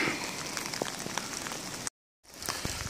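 Rain patters steadily on surfaces around a hiker in the woods near beaver dams, a dense close hiss with scattered drops, briefly cut off by a short gap of silence before resuming.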